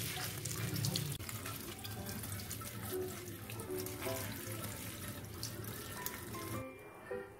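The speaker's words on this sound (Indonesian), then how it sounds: "sebelum dimasak pastikan dicuci bersih dulu ya daun-daunnya" Javanese ginseng leaves are washed under a running tap in a sink, with water streaming steadily and splashing over the leaves, close and continuous before cutting off near the end.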